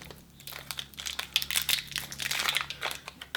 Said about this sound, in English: once you open the foil packet